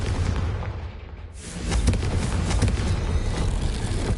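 Confringo blasting spell in a video game, a heavy roaring explosion with a dense rumbling tail that swells again into a sustained loud crackling blast, close and overpowering.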